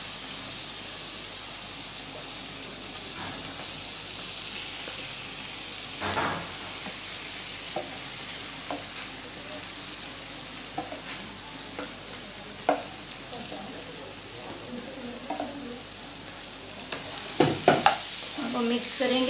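Potatoes sizzle in a pan of frying masala, a steady crackling hiss under irregular scrapes and clinks of a spoon stirring, growing busier toward the end.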